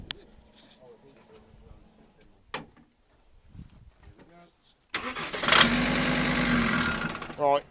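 A car engine with a snapped cambelt, now out of fuel, cranks over on the starter in a loud sustained burst late on, after quieter clicks and bumps, with people talking nearby.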